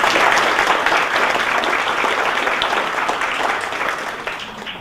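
Audience applause fills a room at a hospital health talk on low-carb diets and fasting: dense, steady clapping from many hands that runs throughout and tapers only slightly toward the end.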